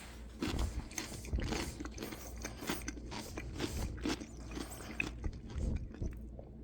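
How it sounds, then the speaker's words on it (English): Close-up crunching and chewing of a crisp homemade dill pickle, with repeated wet, crackly bites in an uneven rhythm right at the mouth. "hold my phone up to my mouth so you can hear how crunchy these pickles are"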